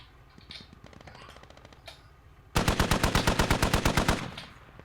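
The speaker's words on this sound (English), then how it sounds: "He's shooting through the wall." Rapid automatic gunfire in a multiplayer shooter game, fired through a wall, rings out as a loud, evenly spaced burst of about fifteen shots following a stretch of quieter, scattered game noise.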